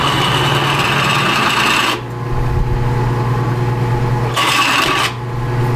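A drill bit countersinks a hole in wood for a treehouse, giving a loud, close grinding rasp in two bursts separated by a brief pause, with a steady low motor drone underneath.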